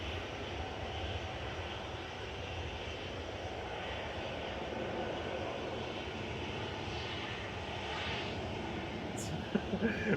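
An easyJet jet on flight 715 departing Manchester for the Isle of Man gives a continuous distant engine roar, fairly quiet and even, with people talking over it.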